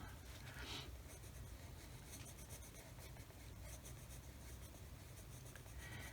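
Graphite pencil shading over a coloured-pencil drawing on paper, a steady close scratchy rasp of repeated strokes continuing throughout, soft and even in level.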